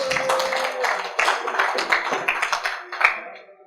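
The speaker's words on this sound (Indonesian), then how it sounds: "sebelumnya tepuk tangan dulu dong buat Grand Final Febhan" Short burst of audience clapping and cheering at a stand-up comedy grand final, a close crowd of claps and whoops that swells briefly and then fades out.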